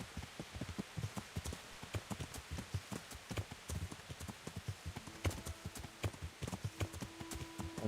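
A horse's hooves clip-clopping at a steady walking rhythm as the warhorse is ridden near stables in Kingdom Come: Deliverance, with soft rain-like ambience and a few faint tonal game cues behind the footfalls.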